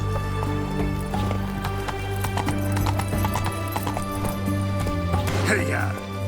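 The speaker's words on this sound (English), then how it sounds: "Whoa there, Roach." Horse hooves gallop in The Witcher 3 video game, a fast rhythmic clip-clop carried on over game music, with a rider's voice calling out and a whinny near the end.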